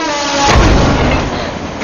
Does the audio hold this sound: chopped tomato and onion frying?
no